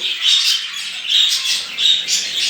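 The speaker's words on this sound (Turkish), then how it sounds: "Hint bülbülü çiftimiz bu." A red-whiskered bulbul calling close by with bright, repeated chattering notes in a steady series of short bursts.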